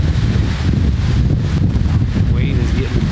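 Strong wind buffets loudly and continuously, roaring across the microphone with a heavy, rumbling rush.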